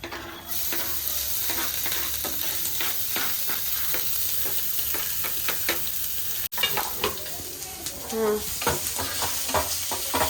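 Dal and other ingredients sautéed in oil in a home kitchen, a close steady sizzle with frequent scraping stirs and spoon taps against the pan. A brief low voice comes through near the end.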